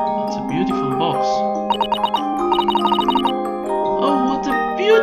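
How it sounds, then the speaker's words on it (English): A large music box plays a disc inside The Great Ace Attorney game, ringing out bright plucked metallic notes and quick tinkling runs over sustained tones, with game voices and speech layered on top. "find big music boxes like this in restaurants and pubs."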